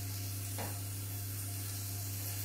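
Tofu frying in a little oil in a non-stick pan: a faint, steady sizzle with one soft stir or click early on, over a constant low electrical hum.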